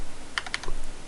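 Short burst of typing on a computer keyboard, a few quick clustered keystrokes close up, clear with no talk.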